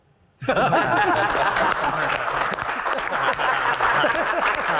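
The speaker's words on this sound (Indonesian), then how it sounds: "Tepuk tangan untuk panelis dan juga rekan-rekan mahasiswa sekali lagi." A university hall audience applauds panelists and students at a comedy Q&A event, loud dense clapping that starts abruptly and continues steadily, with faint chuckles mixed in.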